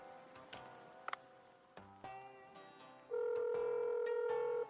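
Electronic phone ringing in the video game Dave the Diver: light ticking blips followed by a loud, sustained tonal ring that holds steady to the end.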